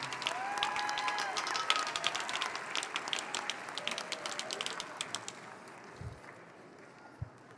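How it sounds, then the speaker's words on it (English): Crowd at a Lamar University College of Arts and Sciences commencement ceremony applauds graduates; a spread of distinct claps with a few faint cheers rings out in a large hall, gradually thinning to scattered claps. "Let's give these folks another round of applause."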